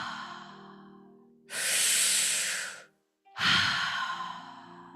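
A slow, deep exhale fades out, then two long, loud, airy breaths through the mouth follow with a short silent gap between, close to the mic during a somatic breathwork session.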